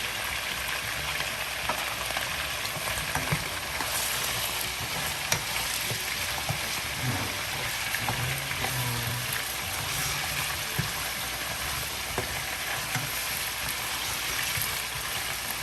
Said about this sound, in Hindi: सिर्फ 1-2 मिनट के लिए इसको फ्राई करना है